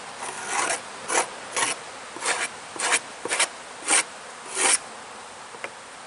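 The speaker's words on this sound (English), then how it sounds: "I'm going to scrape this bottom board on here" Rasping scrapes across a beehive's wooden bottom board come as about nine separate rough strokes, unevenly spaced, close and fairly loud, with no talking.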